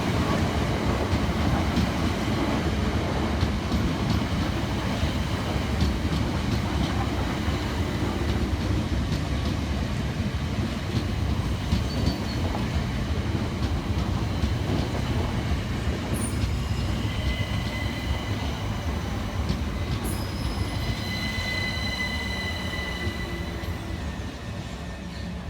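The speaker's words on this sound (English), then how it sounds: "Arriving next into the station 13 minutes late is 376012 and 376011, working the 1144 Southeastern service of London Charing Cross through to Hayes." A Southeastern class 376 pair, units 376012 and 376011, rolls into a station on the Hayes line. The steady, loud rumble of the wheels fills the whole stretch. Brake squeals and high whines rise near the end as it slows.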